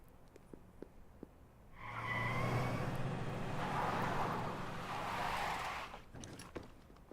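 A car in Xenoblade Chronicles X revving and sliding across the terrain, a loud burst of engine roar and tire noise lasting several seconds, with quieter game sounds before and after.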